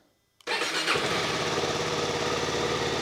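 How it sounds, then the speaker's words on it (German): A Suzuki DR-Z4S motorcycle engine cranks and fires after a brief silence, then settles into a loud, steady close-up idle that runs on without pause. "Und dann können wir die Maschine einmal starten, Zündung anmachen"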